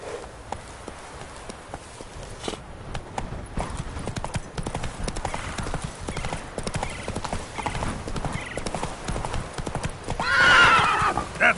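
Roach the horse gallops in The Witcher 3: Wild Hunt, with rapid, rhythmic hoofbeats running throughout and a loud, close neigh near the end.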